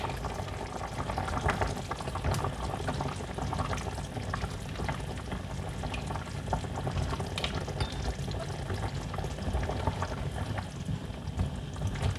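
Thai green chicken curry with eggplant simmers in a pot, giving a steady, dense bubbling and sizzling that runs unbroken at close range with no voices.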